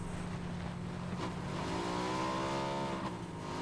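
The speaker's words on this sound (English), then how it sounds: "I hear another motorcycle." A motorcycle engine in the video game PUBG revs and rises in pitch, a sustained buzzing drone heard at moderate distance with a climbing whine toward the end.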